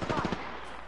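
Rapid automatic gunfire in the shooter game Apex Legends, a short burst of several quick shots in the opening moments that then trails off into a fading echo, moderately loud.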